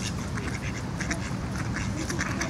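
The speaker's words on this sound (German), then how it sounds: "Oh, Enten! Na, du Ente." A group of ducks quack close by in a continuous, busy chorus of overlapping calls over outdoor background noise.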